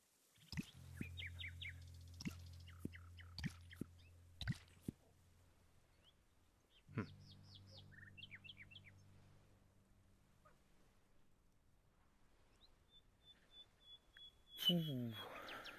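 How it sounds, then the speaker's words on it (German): A person whistles a run of short bird-like chirps and trills while playing the VR game Garden of the Sea on a Meta Quest 2, heard as quiet, scattered bursts with gaps, then a longer whistled tone near the end. "Sorry für das Pfeifen."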